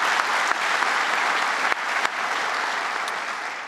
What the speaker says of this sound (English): let's give him a round of applause for all his hard work